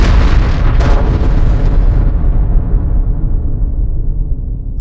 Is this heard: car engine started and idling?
no